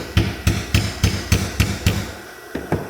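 A hammer taps a Jeep door part clamped in a vise: about nine sharp metallic blows at a steady, even pace, close and loud, with no talking.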